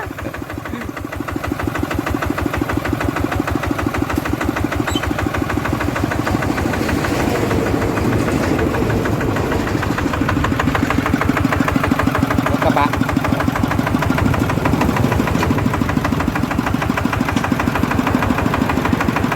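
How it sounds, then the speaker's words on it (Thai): A ten-wheel truck engine runs close by in a steady, loud, rhythmic diesel chug, holding an even pace throughout with a slight swell in the second half. "มาอีกแล้วท่านผู้ชม รถสิบล้อมา"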